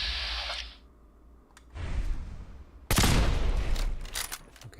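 Turrets in Fallout 4 open up in loud, rattling bursts, one shorter burst followed by a sustained heavy volley, close and harsh with no voices heard over them.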